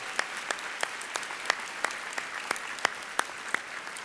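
Scattered applause at a summer program closing ceremony, a modest crowd clapping unevenly with distinct sharp claps standing out over a soft continuous patter.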